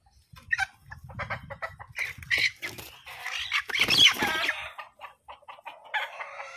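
A mixed-blood chicken with bantam ancestry clucks and squawks in a run of irregular calls, rising to a louder squawk midway, fairly close, with no talking.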